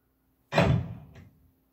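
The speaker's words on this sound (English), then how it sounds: "I said close the door, not slam it." A door slams shut at home with one loud, sharp impact that decays over about a second, close and heard alone, with a faint short rattle as it settles.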